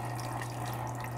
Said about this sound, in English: I can see it's outputting the water. The water is going through the media and it's working.